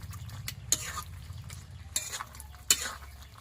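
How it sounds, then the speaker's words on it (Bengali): Mutton curry being cooked down kosha-style in a pan: a low steady sizzle of frying under repeated scraping strokes of a spoon, with a few sharper clinks against the metal, fairly quiet and close. "চলো আমরা মাংসটা কষছি।"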